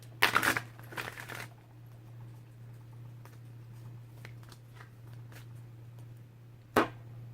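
A quick flurry of cards being shuffled rattles at the start, followed by soft taps and rustles over a low electrical hum, then one more brief riffle.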